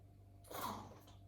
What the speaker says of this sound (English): They're super cute sneezes.